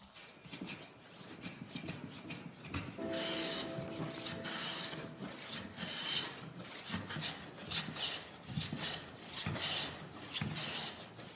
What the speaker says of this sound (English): From here, the first processing stage begins. Shaving.